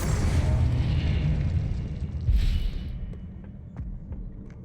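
A Confringo fire spell bursting in the video game Hogwarts Legacy, a loud low rumbling explosion with a second swelling blast midway that trails off into fading crackles.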